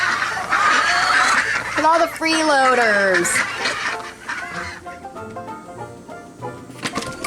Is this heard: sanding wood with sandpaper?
no